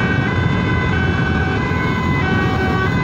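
An ambulance siren wails steadily throughout, close and loud, its tones holding over a dense rumble of road traffic, heard while escorting the ambulance in busy road traffic where even container trucks pull aside.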